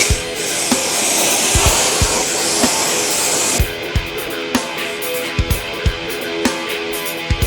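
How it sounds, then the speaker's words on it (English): A pressure washer sprays car wheels and tires, a loud steady hissing jet that drops in intensity partway through, with repeated dull knocks underneath. "for most cars, we're gonna start with pressure wash"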